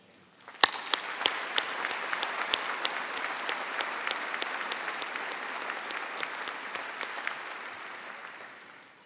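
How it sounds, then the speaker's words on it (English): University graduation ceremony audience in the stands applauding faculty and staff; sharp claps break out, then build into broad, sustained applause from a large crowd that slowly fades. "Everyone, please join me in applauding these tireless individuals who have devoted their time and efforts to help these graduates grow to their full potential."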